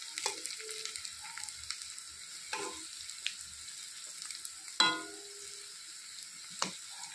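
Coconut fritters shallow-fry in a pan of oil, a faint, sparse crackle with light scattered pops and one sharper clatter partway through.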